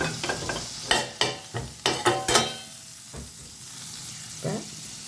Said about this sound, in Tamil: இப்போ நாம் வெங்காயம் போடுறோம்.